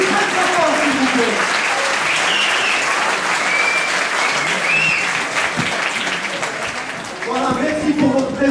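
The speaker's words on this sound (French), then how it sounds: "Applaudissez très fort" Loud, continuous audience applause for the performer Samir closing an event's show, thick crowd clapping that dips briefly near the end before swelling again with voices over it.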